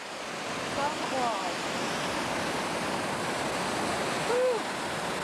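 A small waterfall on New Zealand's South Island gives a steady, full-band rush of falling water, continuous and fairly close, with a few faint chirps rising briefly above the roar.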